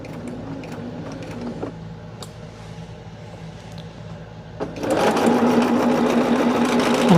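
Sewing machine stitching a quarter-inch quilt seam: faint handling sounds at first, then the machine starts up close and runs with a steady, loud mechanical whir to the end.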